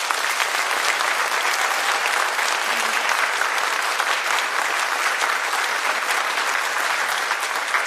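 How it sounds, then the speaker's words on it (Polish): Loud, sustained applause from a concert-hall audience at a charity concert, steady clapping filling the whole stretch without speech. "Myślę, że powinny zabrzmieć ogromne brawa."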